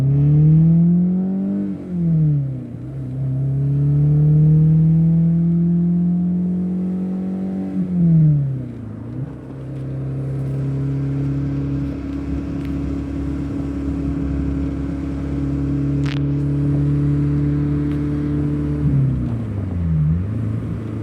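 A convertible car drives along, its engine note rising and falling steadily with clear dips and swells as it shifts and changes speed, heard close and alone for the whole stretch.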